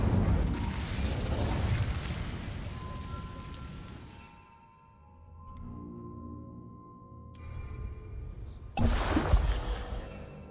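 A fire spell cast in the Hogwarts Legacy video game near a spider's den: a dense roaring burst of crackling flame that fades into low rumbling, then a second sharp loud blast near the end.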